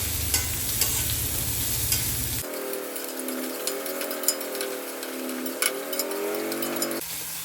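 Onion and green chili frying in hot oil, a steady sizzle mixed with stirring and clinking of a utensil against the pan, with a low engine-like hum at the start and end.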